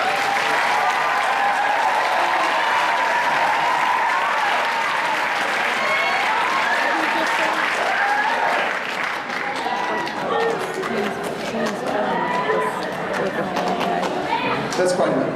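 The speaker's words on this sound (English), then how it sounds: "So let's give him a round of applause." A school concert audience at an orchestra performance gives a loud, sustained round of applause, close and full, with voices and cheers mixed into the clapping throughout.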